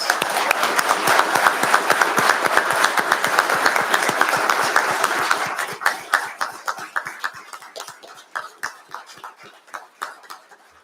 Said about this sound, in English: Can you please now join me in one last round of applause for all our recipients?